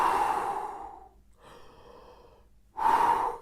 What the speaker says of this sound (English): So in essence, do 4 sets of breathing of 30 times.